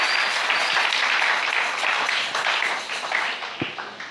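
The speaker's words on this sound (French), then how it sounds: "On acclame, on célèbre toujours la parole." A church congregation applauds in a steady, dense wash of clapping that holds for several seconds and then thins out and fades toward the end, with no talking.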